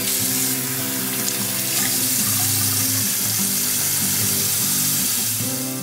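Tap water runs steadily into a sink as hands are washed, a loud, continuous close-up splashing hiss lasting throughout with no speech.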